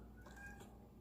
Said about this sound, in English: can hear my cat crying in the background.